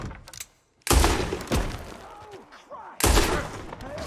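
Loud, close gunshots in Red Dead Redemption 2, two sharp booming blasts with rolling echoes trailing after each, a faint voice briefly heard between them.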